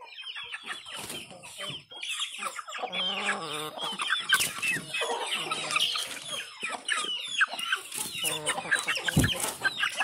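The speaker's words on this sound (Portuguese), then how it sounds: "Esse aqui é outro franguinho." Chickens, including young chicks, cluck and chatter continuously, several birds close by, with busy overlapping calls and a brief louder squawk near the end.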